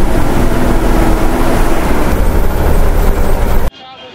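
A motor boat arriving at a river ferry ghat in Gobardhanpur, West Bengal gives a loud, steady engine roar and broadband rumble that cuts off abruptly near the end.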